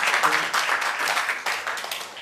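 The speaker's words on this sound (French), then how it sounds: "Applaudissements pour Marguerite." An audience at a cultural event in Côte d'Ivoire gives Marguerite a round of fairly quiet, brisk applause, many hands clapping in an irregular patter for a couple of seconds.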